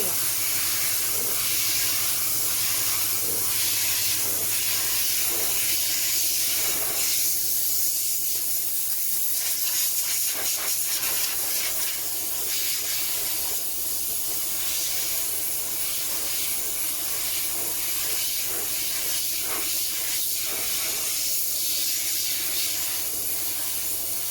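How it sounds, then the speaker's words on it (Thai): Steady hissing blast of compressed air blowing dust off a Suzuki Swift's radiator, continuous and loud, with faint mechanical rattles and bursts of spray throughout. "ตัวนี้ก็จัดการเป่าฝุ่นโหมหม้อน้ำให้"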